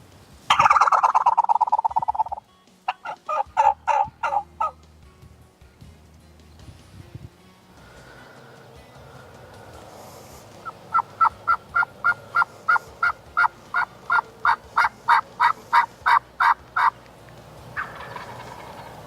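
Wild turkey gobbles ring out loud and close in the woods: one long burst at the start, then rapid rattling gobble series repeating over several seconds with short pauses between, no talk over them.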